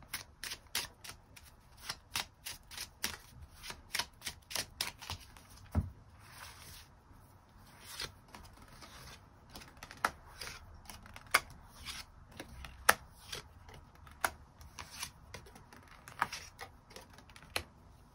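Tarot cards being shuffled by hand, a run of sharp riffling snaps and soft shuffles repeating in quick bursts, close and clear with no talk over them.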